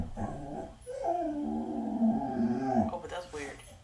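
A dog growls in a drawn-out, wavering low rumble lasting a few seconds, close and moderately loud, with a voice talking near the end.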